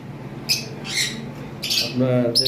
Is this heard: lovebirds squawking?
yes